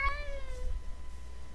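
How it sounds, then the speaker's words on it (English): A cat meows once in modded Minecraft, a clear rising-then-falling call near the start that fades out, followed by low background rumble. "Just a random cat walking around."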